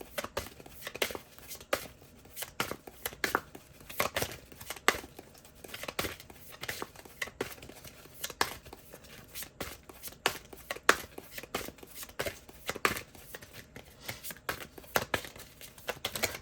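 Oracle cards being shuffled by hand, a close, irregular run of quick papery flicks and crinkles repeating throughout with brief pauses between bursts.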